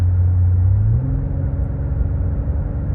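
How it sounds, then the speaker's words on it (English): A car with a power-loss fault pulls away under throttle on a short test drive near a repair shop, its engine rising in a low, steady rumble heard from inside the cabin, with no speech. "We're about to be where we can give it some gas here and go through all the different ranges."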